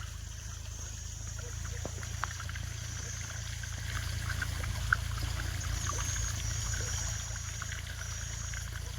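Irrigation water runs steadily through a farm field, a soft, continuous trickling wash with a low rumble of wind underneath, fairly faint and with no talk.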